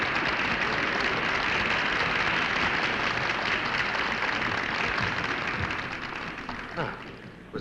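Applause from a film audience, a dense steady wash of clapping that holds loud and then thins slightly toward the end.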